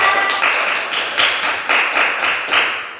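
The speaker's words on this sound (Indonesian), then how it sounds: "Tepuk tangan untuk Nur Hikmah." A classroom of students claps in unison for a classmate, a loud, steady series of crisp, evenly spaced claps grouped in short rhythmic bursts, with no talking.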